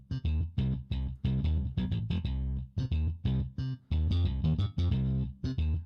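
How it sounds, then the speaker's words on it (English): A funky synth bass in FL Studio is played through a fast distortion effect, giving a gritty, edgy tone in short rhythmic bursts with clear gaps between phrases. "another thing that you can do afterwards is add some distortion"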